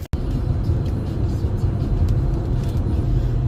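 Steady low engine and road rumble from inside a moving car on the drive home from a stormy Lake District wild camp, continuous and fairly loud with faint wind buffeting, no talking.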